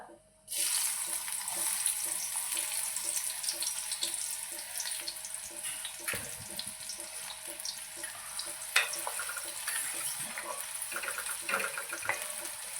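Chopped onion sizzles steadily in a hot pan, a constant, fairly close frying hiss with occasional soft stirring scrapes and a faint low hum underneath.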